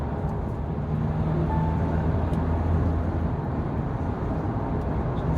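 Mahindra Thar 4×4 manual with the mHawk diesel engine cruising in fourth gear around 45–50, a steady low engine drone mixed with road and wind rush from inside the cabin, continuous and even, no talking.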